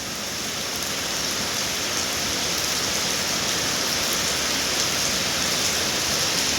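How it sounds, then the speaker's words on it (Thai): Steady, dense daytime rain pours down continuously in rural Thailand, a broad hiss of heavy drops with no voices or other sounds. "ฝนมาแล้วบ้านน่ะ"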